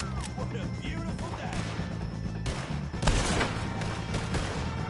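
Gunfire rings out in a Red Dead Redemption 2 shootout with Driscoll gang members, loud repeated shots and crashes layered over dense game noise and music, with a voice talking over the action.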